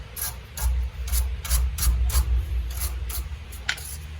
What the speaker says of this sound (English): get a wire brush. This gets all the gunk out of there.